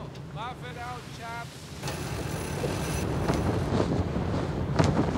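Wind buffeting microphones worn with WIDEX UNIQUE hearing aids outdoors, a loud, continuous broadband rumble that grows stronger, with a few brief bird chirps near the start.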